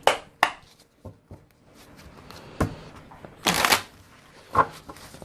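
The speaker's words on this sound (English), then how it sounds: "Let's pull a couple cards on this. Let's get 3 cards." Tarot cards being shuffled by hand, several sharp riffles and taps spread out in sequence, then a longer, louder riffle burst near the end, close and clear with no voices.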